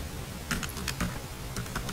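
Keys clatter on a computer keyboard as a network reset command is typed into a Windows command prompt, a quick run of light irregular clicks close up, with no talking.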